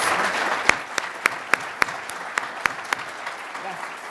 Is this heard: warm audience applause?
yes